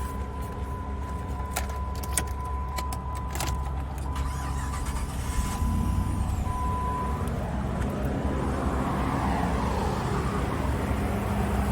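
A 5.7 Hemi Jeep Grand Cherokee at a salvage yard auction: a few clicks and a short electronic chime, then the engine cranks and catches around six seconds and settles into a steady, quiet idle.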